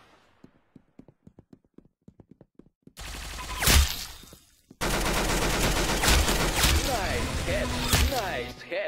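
Gunfire in a shooting video game. A few faint, quick ticks come first, then loud bursts of rapid shots and blasts, followed by a long, dense stretch of firing.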